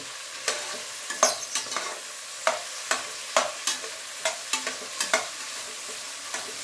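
Ginger garlic paste and mint leaves frying in a pan, a steady soft sizzle broken by a dozen or so sharp, clicking spatula strokes at an irregular rhythm, close and fairly quiet with no voices.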